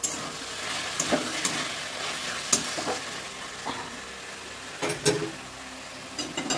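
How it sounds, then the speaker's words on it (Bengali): Small shrimp fry in a pan with a soft, steady sizzle, punctuated by scattered scraping stirs and light utensil taps at close range. "চিংড়িগুলো আমি ভেজে নিচ্ছি"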